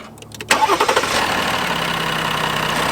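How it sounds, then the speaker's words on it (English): A 2020 Jeep Wrangler EcoDiesel engine cranks briefly, fires with a few loud chugs, then settles into a steady, rumbling diesel idle close by. "I'm going to start up the diesel so you can hear it"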